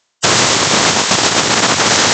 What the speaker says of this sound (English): let me get my old blower here and blow it off